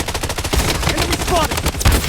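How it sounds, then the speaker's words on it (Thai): Gunfire from the online shooter Blood Strike, a fast run of loud, close shots and bursts packed across two seconds, with game effects layered around them. "นี่เขาจะยิงกันใช่ไหมเขายิงกันสองคนลงได้นะ"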